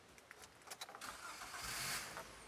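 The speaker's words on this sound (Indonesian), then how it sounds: "Kita coba hidupin mobilnya dulu." A white 2022 Daihatsu Luxio 1.5 D with manual transmission cranks briefly, then its engine catches and settles into a steady close-up running hum.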